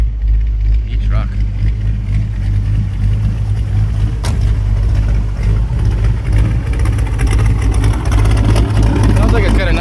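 A 1956 Ford F100 4x4 pickup with a 390 V8 and a mild cam idles steadily up close, its low rumble continuous throughout while someone talks over it.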